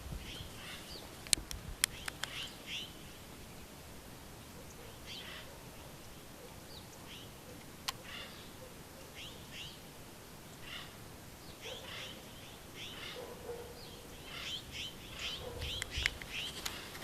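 Birds chirp and tweet outdoors at an off-grid village in the Bosque. The calls are faint and scattered, set against a quiet, airy background.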